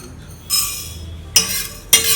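Chana dal poured into a dry pan with mustard seeds for an oil-free recipe, giving three bright rattling bursts as the lentils hit and are stirred against the metal, close and loud with quiet gaps between.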